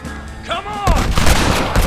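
Heavy gunfire in the Western video game Red Dead Redemption erupts loudly, a dense burst of booming shots that follows a brief moment of quieter in-game sound and voices.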